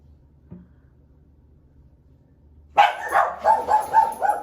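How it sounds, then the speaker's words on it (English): After a quiet stretch, a dog suddenly breaks into a rapid series of loud, close barks, about six in quick succession. "Sorry about the barking."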